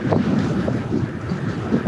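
Strong gusty wind buffets the microphone during a downhill ride beside Burdur Lake, making a loud, steady broadband roar with slight surges throughout and no voices.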